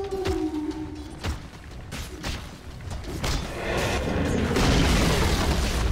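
The Radiant top tower collapses in Dota 2 with a deep booming crash, followed by rumbling debris, swishing effects and scattered thuds from the surrounding fight.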